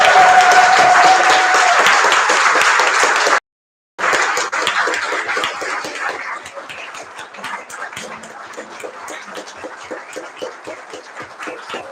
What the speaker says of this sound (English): Can I get one more huge applause for the outgoing Concom?